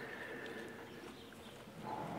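A horse trots on a lunge line, its rhythmic hoofbeats mixed with a whinny-like call, heard faintly and a little distant against a steady outdoor background.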